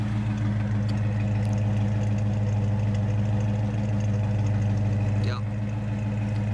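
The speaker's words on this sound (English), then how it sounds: "Tow wrecker's exhaust." A tow wrecker's engine idles through its exhaust, a loud, steady low rumble close by with no breaks, plus a faint brief squeak near the end.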